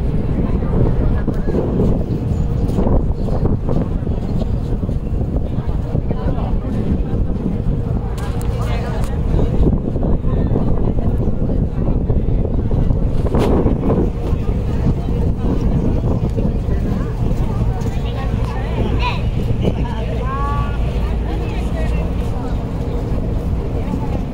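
Steady engine rumble and wind buffeting from a river boat heading to Umananda temple in Guwahati, continuous and loud, with occasional voices in the background.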